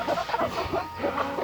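Chickens cluck continuously and close by in a farm yard, with overlapping busy calls from several birds.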